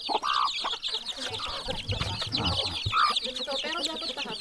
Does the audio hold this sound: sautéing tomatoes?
no